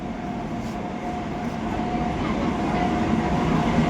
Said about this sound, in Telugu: మన ట్రైన్ అయితే బ్యూటిఫుల్ వ్యాప్ 7 లోకోతో అయితే వస్తుందన్నమాట.